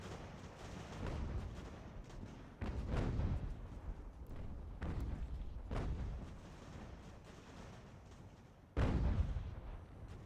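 Artillery fire in Ultimate General: American Revolution during a large eighteenth-century battle: repeated booming cannon shots at irregular intervals, each a heavy blast with a rumbling tail over continuous distant battle noise, the last one loudest.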